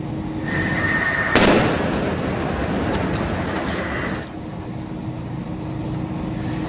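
A bomb exploding as a bomb squad robot cuts a wire to the device in Elizabeth, New Jersey, heard as a sharp loud burst early on within a steady roar of noise that fades and shifts afterward.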